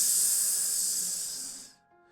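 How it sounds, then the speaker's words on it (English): A hissing steam effect for a D&D game: a loud, continuous, close rush of hiss that holds steady, then tapers and cuts off near the end, leaving faint quiet. "steam comes out towards you"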